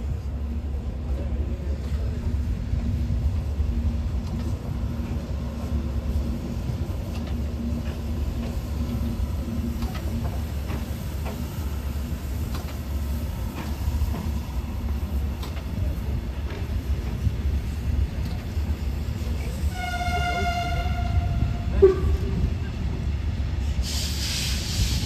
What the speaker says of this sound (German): Jetzt kommen hier wieder die Eisenbahn